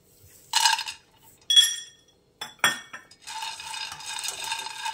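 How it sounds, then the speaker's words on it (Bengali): Peanuts tipped into a pan, landing in a few sharp rattling bursts of metallic clinks, followed by a softer continuous scraping rattle as they settle and shift. "প্যানের মধ্যে আমি দিয়ে দিচ্ছি পিনাট"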